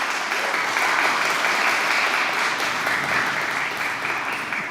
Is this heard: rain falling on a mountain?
no